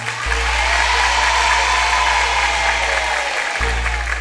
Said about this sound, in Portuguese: Vamos aplaudir esse garoto.